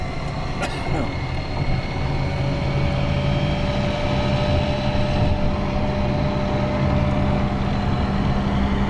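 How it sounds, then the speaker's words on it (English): Steady road noise fills the cab of a moving Ford Ranger converted to electric: a constant low rumble and wind roar with a faint motor hum underneath. "Close these windows, maybe get rid of some of that road noise."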